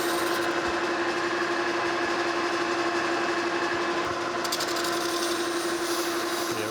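A metal planer cuts a cast iron gear blank, giving a steady, loud mechanical drone with a constant hum and broadband grinding texture throughout, no voices.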